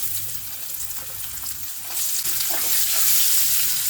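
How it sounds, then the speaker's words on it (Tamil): Cinnamon, garlic, ginger and onion frying in a pan, a continuous close sizzle that swells louder midway as more ingredients go in, with light stirring scrapes. "இது எல்லாத்தையும் நல்லா ஃப்ரை பண்ணிக்குவோம்."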